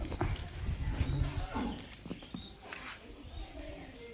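HF dairy cows in a shed moo and shuffle at moderate distance, with their calls mixed among people talking nearby.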